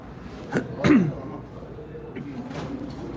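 A single sharp cough bursts out close to the mic, followed by a quieter vocal sound, over low room hiss.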